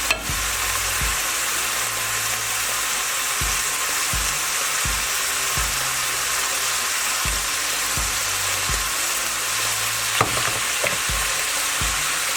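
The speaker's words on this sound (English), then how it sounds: "So it's getting brown. I'm just going to leave it a little bit now to keep frying." Beef browns in oil in a frying pan for lasagna, giving a steady, close sizzle that runs throughout, broken by a dozen or so short scraping knocks as it is stirred. No one speaks.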